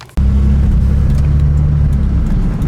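A MKIV Toyota Supra on a test drive, its engine cutting in abruptly as a loud, steady, close rumble that holds through to the end.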